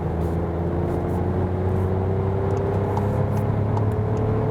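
A Seat Ateca 1.0 TSI engine accelerates in third gear on the road, a steady, moderately loud drone whose tone climbs slowly under a constant hum of road and cabin noise.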